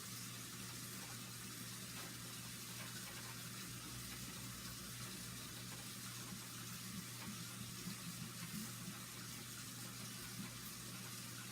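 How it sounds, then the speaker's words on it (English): Steady, faint running water from a tap as vaporizer pieces are rinsed, a continuous even gush with a low hum beneath and no talking. "So the saxifyer pieces are rinsing right now."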